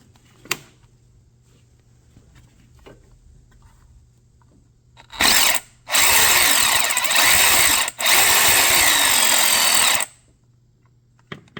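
A power tool removes fasteners from the water pump of a Honda Accord with an F22B1 engine: a short burst, then two long loud whirring runs separated by a brief pause, with faint clicks and handling around them.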